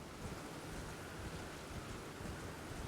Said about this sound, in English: it's always raining in the Dragonbarrow.